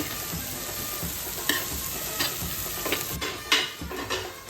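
Onion and tomato cooking in hot oil in a pan give a continuous close sizzle, broken by several sharp scrapes and knocks of a spatula stirring against the pan.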